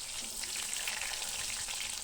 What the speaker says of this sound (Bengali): তেলটা ভালো করে গরম হয়ে এলে এখানে আমি আলুগুলো দিয়ে দিচ্ছি